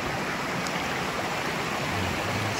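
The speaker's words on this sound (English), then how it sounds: "That's a nice creek. Little creek here." A small creek flows along a hiking trail, a steady, even rush of water filling the whole stretch at moderate level with no talk over it.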